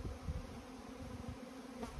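Steady buzzing of many bees flying close by on a sunny, calm, warm day, a continuous droning hum with no voices.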